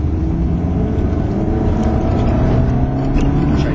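A Ferrari road car's engine accelerates in a steady, loud, continuous drone with a slowly rising pitch, heard from inside the car with no talking over it.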